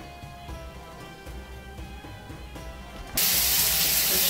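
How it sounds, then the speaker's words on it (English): A hotel bathroom shower bursts on partway through, a loud, close, broadband hiss of spraying water following a quieter stretch of low room hum. "The shower's got power."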